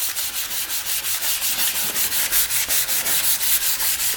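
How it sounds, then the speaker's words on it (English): Wet sanding of a car taillight face with water, a rhythmic rasping scrub repeating several times per second under medium to light pressure, close and steady with no talking. "Start sanding."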